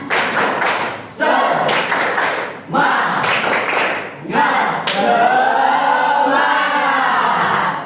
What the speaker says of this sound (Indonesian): beri tepuk tangan dong untuk kelompok 3. Tepuk semangat.